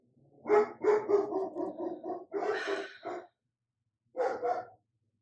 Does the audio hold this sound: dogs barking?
yes